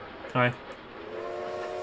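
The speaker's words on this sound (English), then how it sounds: "Train whistling intensifies." A steam train whistle in the Bounty Train video game sounds as a sustained, steady tone that swells up late in the clip, following a brief, stronger harmonic blast, over a constant background rumble.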